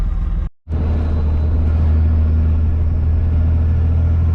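Diesel pickup engine with a Garrett turbo, 6.7 bottom end and 5.9 top end with heavier valve springs, droning steadily at a low pitch while driving, loud and close, after a brief dropout at the start.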